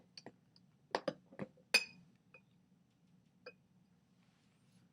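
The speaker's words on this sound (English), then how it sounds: "I'm going to put a beaker underneath." A glass beaker is set down under glass tubing in a classroom demonstration, giving a few sharp, faint clinks and taps spaced over a few seconds in a quiet room.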